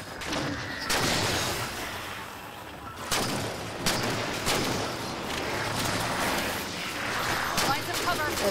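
Turret gunfire in the Halo 4 video game: heavy booming shots hit at irregular intervals over a dense, continuous battle din, with voices heard faintly in the mix.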